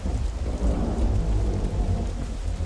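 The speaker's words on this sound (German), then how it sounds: "Das war aber ein langer Donner." A long, deep roll of thunder rumbles continuously over steady rain in the video game The Isle, loud and close with no voices.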